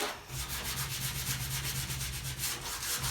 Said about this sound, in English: Then we do the final sanding on that.